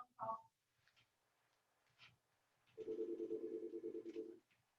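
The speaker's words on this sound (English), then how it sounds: "Sorry, we have a phone call." A telephone rings in a room during a talk, one short chirp followed by a steady, loud electronic ring tone lasting over a second, with quiet background in between.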